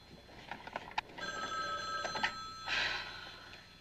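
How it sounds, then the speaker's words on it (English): A telephone bell rings in short repeated bursts indoors, fairly faint and somewhat distant, with no voices over it. "Get the phone."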